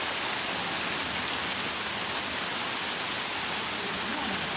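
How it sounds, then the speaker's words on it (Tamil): Heavy rain pouring down outdoors, a dense, loud, unbroken hiss of drops hitting surfaces, constant throughout with no voices. "சரியான மழை கைஸ், நீங்கள் பார்த்தீங்கன்னா தெரியும் சரியான மழை."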